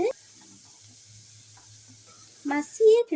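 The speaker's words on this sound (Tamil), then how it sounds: "கறிவேப்பிலை பொரிந்ததும் நறுக்கிய வெங்காயத்தை சேர்த்து கிளறி விடுங்க." Chopped onions and curry leaves fry in oil for an egg and tomato dish, giving a steady soft sizzling hiss with faint stirring scrapes. A voice breaks in briefly near the end.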